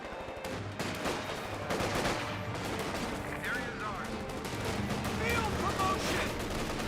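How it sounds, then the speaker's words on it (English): Rapid bursts of small-arms and machine-gun fire from Panzer Fusiliers trading shots with a .50 cal position in Company of Heroes 2, a dense crackling exchange running throughout at steady loudness. "50 cal taking a little bit of fire there from the Panzer Fusiliers."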